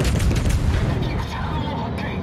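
Heavy naval guns of the cruiser Yoshino fire in a warship battle game: a deep, loud boom rolls out at once and fades into a long rumbling decay.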